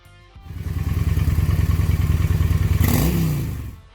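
A Honda Shadow Phantom cruiser motorcycle engine running close by, a loud lumpy pulsing rumble that starts abruptly, holds an even beat and briefly rises as it revs before cutting away.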